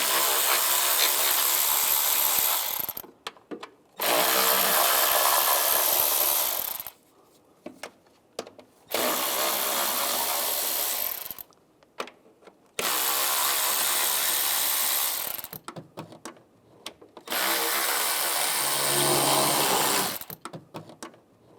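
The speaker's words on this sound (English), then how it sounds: "Now we'll take these bolts out on the top and on the bottom of the intake. Use an 8mm socket." Intake bolts on a 2011-2018 Ram 1500 being loosened with an 8mm socket on a ratchet, giving bursts of dense, loud mechanical whirring a few seconds long, separated by short pauses, with no talking.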